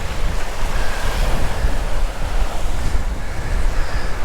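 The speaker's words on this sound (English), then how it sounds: "It's just windy beyond belief" Strong wind roars across the microphone at a kitesurfing spot on Oahu's North Shore, with ocean surf washing steadily underneath; a loud, continuous outdoor rush with no pauses or talk.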